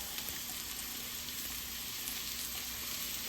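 Onion and carrots frying in hot rendered bear fat for shepherd's pie give a steady, dense, close sizzle that holds at one even level throughout, with no voices.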